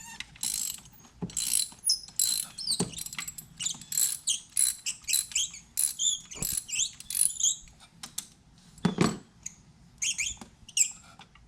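A ratchet wrench loosening the spark plug on a BMW 528i, bursts of rapid metallic clicking repeated in short strokes with brief pauses, close and crisp, plus a few dull knocks.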